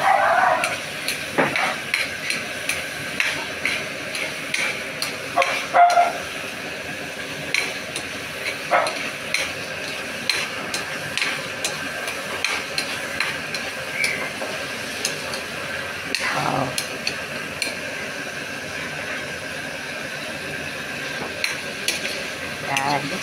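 Adobong sitaw with egg being stirred in a pan: soft scraping and clinking of a utensil against the pan in irregular strokes, with a faint sizzle underneath throughout.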